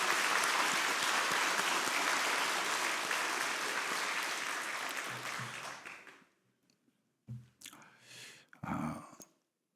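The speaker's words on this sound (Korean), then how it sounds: "우리 원로 목사님 사모님 위해서 우리 감사의 마음을 담아서 박수해" A church congregation claps in sustained, dense applause during a Sunday worship service, steady for several seconds before fading out, followed by a few faint scattered sounds and near silence.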